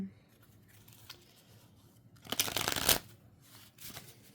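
A new deck of tarot cards being shuffled, the stiff cards riffling in a loud burst of crisp flutter for about half a second, with quieter handling and light rustling before and after.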